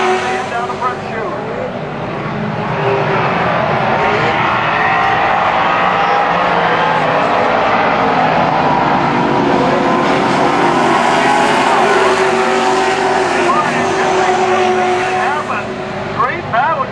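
Pro stock race cars roar around Canaan Speedway in a continuous, loud pack of engines, with revs rising and falling as cars battle through the turns, and an announcer's voice calling the race throughout.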